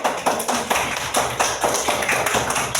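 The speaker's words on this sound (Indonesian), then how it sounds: "silakan duduk kembali, tepuk tangan dulu." A class of schoolchildren claps together in a classroom, a steady run of fairly loud, dense handclaps filling the whole stretch with a few louder accents.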